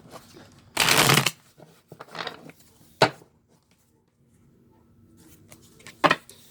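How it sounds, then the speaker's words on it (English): A deck of tarot cards is shuffled at close range, with one long riffling burst followed by several shorter shuffles and taps separated by quiet pauses. "this will be the last time that I shuffle"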